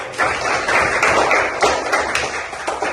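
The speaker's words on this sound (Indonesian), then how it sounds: "Oke, tepuk tangan dulu." An audience in a classroom session claps in a dense, steady burst of applause lasting a few seconds, close and fairly loud, with no talking over it.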